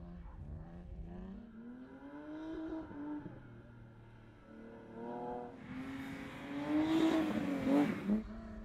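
A 300-horsepower race car engine during qualifying climbs steadily through the revs, dips and winds up again, growing louder and harsher toward the end as it passes closer.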